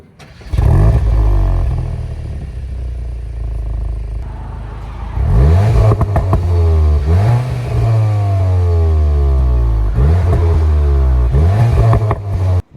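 A 2022 Cupra Leon engine starts and revs hard, climbing in pitch through repeated rising sweeps as it accelerates through the gears, loud and close with no talk.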